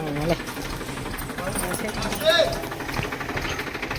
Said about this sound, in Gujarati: મોટર ખેંચાવાની ચાલુ થઈ ગઈ છે. જો અંદર ટ્રેક્ટરથી.